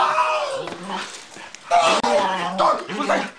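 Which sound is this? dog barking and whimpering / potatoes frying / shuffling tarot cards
dog barking and whimpering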